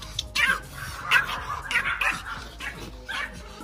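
A dog gives a run of short, high yips and whimpering barks at close range, several quick bursts spread across a few seconds, with no voices over them.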